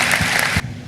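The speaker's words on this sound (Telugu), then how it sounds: "అందరు మనస్ఫూర్తిగా తల్లుల కొరకు ఒకసారి చప్పట్లు కొడదామా?" An audience claps together in honour of mothers at a church gathering, a dense, loud burst of applause that drops away sharply after about half a second.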